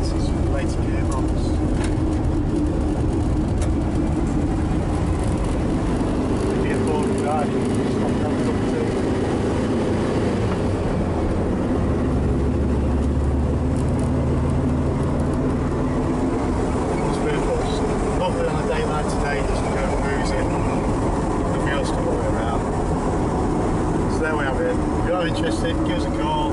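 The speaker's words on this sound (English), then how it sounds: "Coming down the gears, second pressure's good in all the gears, it's with the later gearbox." A 1967 Volkswagen Kombi split-screen camper van with the later gearbox drives along while shifting down through the gears. Its air-cooled engine drones loudly and steadily under heavy road and wind rumble, with someone talking over it.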